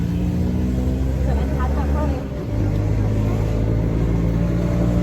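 A crowded auto rickshaw carrying a family, its engine droning loudly and continuously as it rattles along, with voices talking over the ride.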